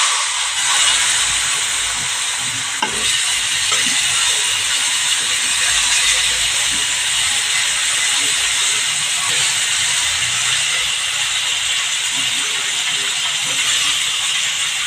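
Steady, loud sizzling hiss from spiny gourd and turmeric in a hot pan, holding evenly throughout with faint clinks of stirring underneath.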